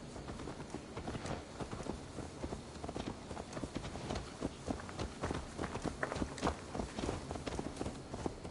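Horse hooves in Assassin's Creed Valhalla clip-clop in a steady walking rhythm, moderately loud, with soft scuffing footsteps and faint ambient noise.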